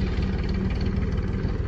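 A tractor engine runs steadily at close range, a continuous low rumble with a chugging, idling pulse and no voices over it.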